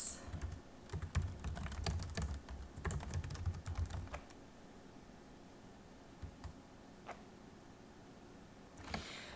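Someone types on a computer keyboard while entering text into an Excel spreadsheet cell: quick, quiet clusters of key clicks at first, then sparse, faint taps against a low background hiss.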